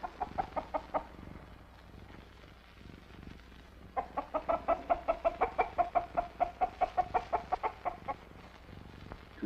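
Hens cluck in a steady run of short, rhythmic calls, with a brief burst at the start and then a longer, louder sequence after a pause. A faint low hum sits underneath, and nobody speaks.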